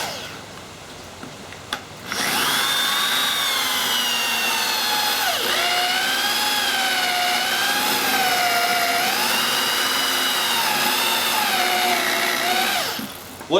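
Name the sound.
step drill bit boring a large hole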